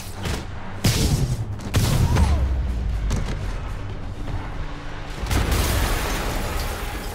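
Several heavy video game explosions boom one after another in a Spider-Man Remastered boss fight, each followed by a rumbling roar that lingers before the next blast hits.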